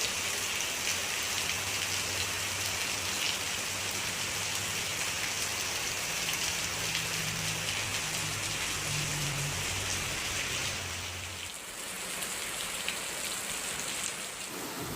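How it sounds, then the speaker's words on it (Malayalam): Heavy rain pours onto a house roof, a dense, loud, continuous roar that runs unbroken and eases slightly near the end. "അതിൻ്റെ മുകളിലേക്ക് മഴവെള്ളം വീഴും ഭയങ്കര സൗണ്ട്"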